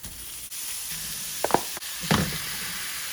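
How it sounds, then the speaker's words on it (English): Browned vegetables sizzle in a frying pan as ground turkey is added, a steady close hiss with a few sharp clinks and stirring scrapes partway through. "Now that our veggies are nice and brown, we're just gonna go ahead and add in our meat."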